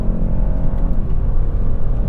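A 2021 BMW 430i xDrive with a ZF 8-speed gearbox accelerates in sport mode, its engine giving a steady, loud, close throaty hum and rumble that holds without a break, with no talking.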